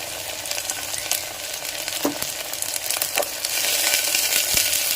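Soaked green peas and peanuts tipped into a hot frying pan, sizzling loudly and steadily with stirring scrapes, close and without talk.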